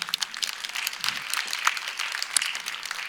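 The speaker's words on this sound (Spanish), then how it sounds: "Por favor, un aplauso para Javier." Sustained applause from a summit panel audience at an industry and AI event, steady and fairly close throughout the short stretch with no speech over it.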